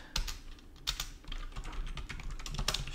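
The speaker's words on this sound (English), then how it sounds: "I have the clickiest keyboard in history" A very clicky computer keyboard clatters under fast typing, sharp bright keystrokes with a few louder accented clicks, close and with no talking.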